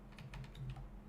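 Quiet typing on a computer keyboard, a quick run of about six soft key clicks over a low steady hum.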